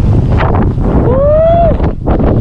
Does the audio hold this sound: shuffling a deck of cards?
no